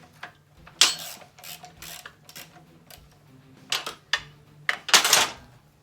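Hand ratchet breaking loose thick fine-thread bolts on the rear suspension hub and backing plate of an M151A2 military jeep, irregular close bursts of clicking pawl strokes with metallic knocks and pauses.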